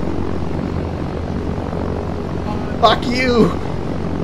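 A steady, droning propeller aircraft engine drones through an in-flight stretch in the Arma 3 video game, while someone shouts briefly over it near the end.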